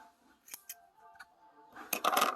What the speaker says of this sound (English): So now I've got this very long serger. I trim it down to about here.